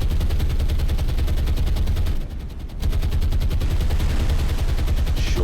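Continuous anti-aircraft gunfire in the naval combat game War on the Sea, a loud, dense rapid-fire barrage that pauses briefly midway and then resumes, with no speech.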